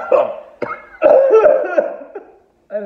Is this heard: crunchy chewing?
no